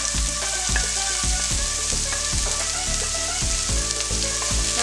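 Peppers sizzle loudly in hot oil in a cooking pan, giving a constant close-up crackle with regular lower thumps of stirring or tossing underneath.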